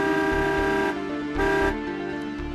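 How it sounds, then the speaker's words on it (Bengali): A car horn honks in a traffic jam held up by an accident ahead, a long steady blare that stops and restarts a few times, close and loud, with no talk. "হর্ন বাজিয়ে লাভ নেই"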